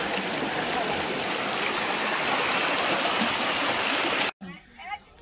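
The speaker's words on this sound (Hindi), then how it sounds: "So just below Keshavaraj temple there is a beautiful river which flows out" A river runs just below Keshavaraj temple in Dapoli, giving a loud, steady, broadband rush of flowing water that ends abruptly near the close, after which faint outdoor sounds remain.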